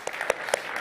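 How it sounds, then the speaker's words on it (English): Audience applause at a panel discussion on India-UAE engagement, a short burst of scattered clapping with a couple of sharper claps standing out, moderately close. "Stand up and applaud."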